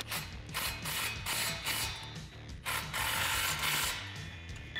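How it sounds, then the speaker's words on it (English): Ratchet with an 18 mm deep socket tightening a nut on an exhaust clamp of a 2019-2020 RAM 1500 5.7L: rapid, steady clicking strokes, close and continuous, with no voice. "Hold the bolt head, tighten down the nut."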